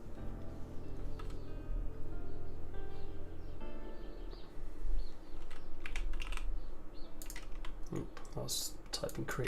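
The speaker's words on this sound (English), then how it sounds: "I was typing create relay into the wrong place." Rapid clicks of a computer keyboard while someone codes in Unity, with bursts of keystrokes that grow busier toward the end and a voice talking at times in the background.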